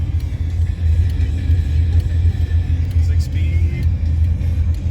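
A Pontiac Firebird WS6 1LE with a six-speed transmission rumbles steadily while driving, a loud, deep engine drone heard from inside the car with faint clicks and rattles over it.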